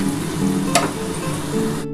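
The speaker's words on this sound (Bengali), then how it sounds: "আমি কিন্তু প্রথমে কিন্তু মশলাটা একটু ভেজে নেব" Ginger, garlic and green chilli paste frying in a pan, a steady close sizzle with a brief sharper burst partway through, no talking.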